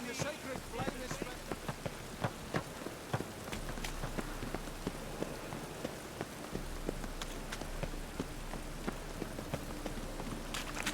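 Steady rain falls in The Witcher 3 video game, a dense broadband patter that runs throughout with scattered sharper drops, while faint voices and some footstep-like clopping sit beneath it.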